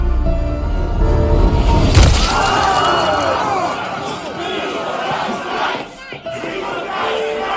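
Angry mob in the horror film Halloween Kills shouting loudly together as doors are broken open, with a heavy crash near the start and continuous massed yelling.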